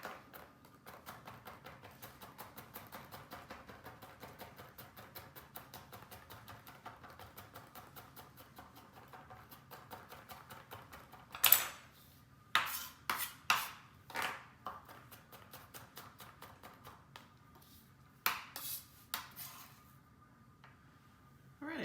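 A knife chops garlic cloves on a cutting board in a home kitchen, starting as a quiet, fast, steady tapping, then giving way to a handful of sharper, louder knocks near the end.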